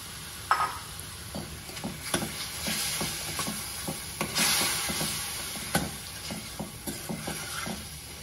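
Mushrooms sizzling in a thick masala in a pan, with a steady fry hiss and a run of sharp spatula scrapes and knocks spaced irregularly throughout, close and clear with no voices.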